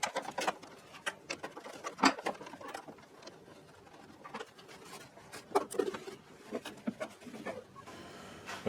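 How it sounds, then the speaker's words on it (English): A 10 mm socket wrench ratcheting out a bolt on a Chevy Express/GMC Savana van engine during a drive belt replacement, heard as faint, irregular clicking bursts at close range. "So get your 10 millimeter socket, we'll get this out"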